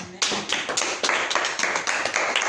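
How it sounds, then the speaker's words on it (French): Congregation applauding during a church service, a burst of many hands clapping in a quick irregular rhythm that starts abruptly and continues steadily, fairly close and without voices. "Applaudissons un peu d'abord pour le Seigneur Jésus."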